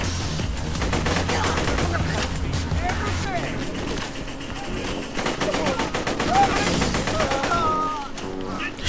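Sentry turret gunfire in Borderlands 2, with its dense, rapid automatic firing running continuously through the game mix alongside other shots and game effects, while a voice talks over it.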